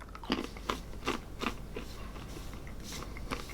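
Repeated crisp crunches of someone biting and chewing KP Signature sea salt and rosemary glazed cashews, a series of sharp close bites in an irregular rhythm, with no talking.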